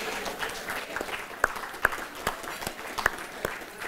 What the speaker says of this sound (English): Let's give a round of applause to our amazing panelists.